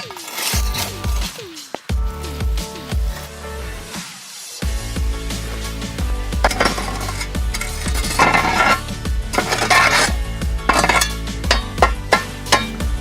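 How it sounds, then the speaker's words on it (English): A cast iron roasting pot lid with coals sitting on it, tapped so the coals fall off: metallic clinks and clanks, close and fairly loud, mixed with scraping and rattling, no voices. "Not necessary to get all the coals off, but that little tap at the end, crucial."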